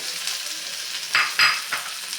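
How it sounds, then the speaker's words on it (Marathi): Mashed potato frying and being stirred in hot ghee in a pan, with a steady close sizzle and a few louder scraping stirs near the end, no voices. "इथे तूप गरमच आहे त्यामध्ये हा शे बटाट्याचा आपल्याला घालून घ्यायचा आहे"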